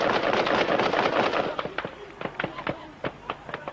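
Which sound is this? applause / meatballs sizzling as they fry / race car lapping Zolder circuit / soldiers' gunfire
soldiers' gunfire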